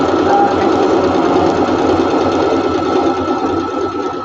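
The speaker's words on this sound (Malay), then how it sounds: "cikgu guna mesin jahit jenama apa? Okey, yang ini jenama brother JK170B." A Brother JK170B sewing machine stitches steadily and close by, a continuous loud mechanical whir with a fast even rhythm, and no voices over it.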